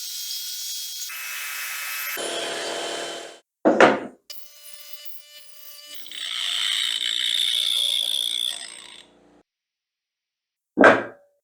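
A sander works the ends of a small wood piece held in a pressure clamp, with bursts of grinding and whirring broken by pauses and two sharp knocks of handling.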